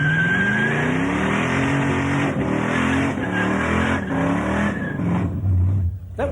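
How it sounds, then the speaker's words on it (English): A Toyota Corolla fitted with a 302 V8 revs hard at the Summernats car festival, a loud sustained engine roar with rising and falling pitch and a tyre-squeal edge under crowd noise. "And might look like a Toyota Corolla, but it's got a 302 in it."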